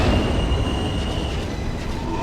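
An R179 F Express subway train bound for Jamaica 179th Street rumbles steadily from inside the car, with a dense roar of wheels on track and a thin high squeal running through it.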